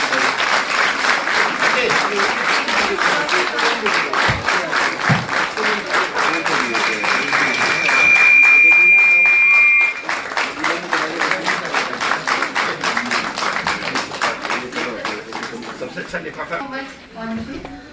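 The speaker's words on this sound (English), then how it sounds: "give a huge round of applause for the special occasion" Sustained applause from a large crowd at a closing ceremony, dense and even, with a voice talking over it and a brief high tone midway before the clapping thins out.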